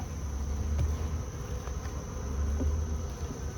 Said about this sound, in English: it's definitely full of bees